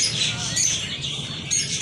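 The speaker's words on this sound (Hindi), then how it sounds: "ये देखो बड़ा तोता है, ये बांग्लादेश का है।" A large parrot from Bangladesh squawks with harsh, raspy calls over a busy, noisy bird-house din, continuous and close throughout.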